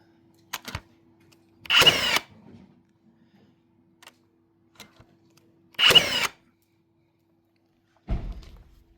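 A Bosch GNB 18V 38 concrete nailer drives nails into timber on its deep setting: two sharp, loud bangs about four seconds apart, then a duller thump, with faint clicks between and near silence around them.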